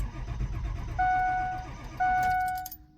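A diesel engine with a newly replaced ICP sensor cranks briefly, then fires up and settles into a steady close idle, with two sustained tonal beeps sounding during the start.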